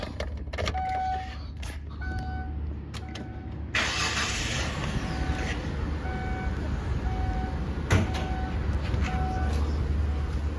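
A 2005 Kia Sedona EX with a 3.5-litre V6 cranks and catches, its engine settling into a steady idle after a short start-up surge, close and loud with chimes sounding over it.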